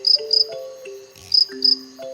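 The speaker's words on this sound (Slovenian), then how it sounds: "Tako majhen je. Mali čriček je." A small cartoon cricket in a Slovenian animated show chirps in bright, high pulsing bursts, two pairs of chirps over a soft melodic music background.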